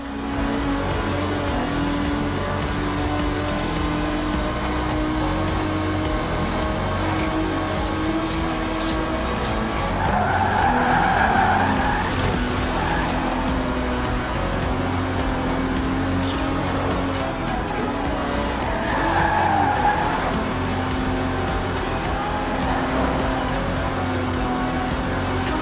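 A 1960s Aston Martin DB5 Vantage driven in Forza Horizon 4, its engine droning steadily throughout with two brief tire squeals from skidding partway through, no voices.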